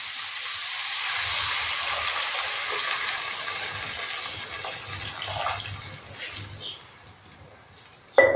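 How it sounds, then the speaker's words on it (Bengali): Water pours steadily into a cooking pot of vegetables for a manchurian soup, a bright gushing flow at close range that gradually eases and thins out, ending with a sudden brief clatter. "এবার এর মধ্যে আমি জল দেব।"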